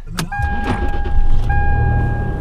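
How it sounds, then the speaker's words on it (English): A 3.4-liter truck engine with an automatic transmission fires up: a sharp cranking burst catches and settles into a steady, close idle rumble, with a sustained electronic chime tone running through it. "First fire up of the truck when it's mine."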